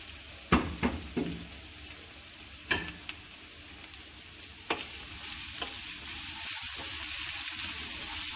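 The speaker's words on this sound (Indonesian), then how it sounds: "kita oseng" Meatballs of boiled beef and chicken with fried meatballs and tomato stir-fried in a pan for mie godog, a few sharp spatula scrapes over a steady close sizzle.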